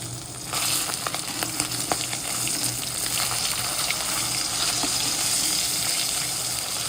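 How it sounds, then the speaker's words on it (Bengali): Rohu fish sizzles and spits steadily in a hot pan, a dense close-up hiss of frying oil with small crackling pops throughout, no voices. "রুই মাছ ভাজা"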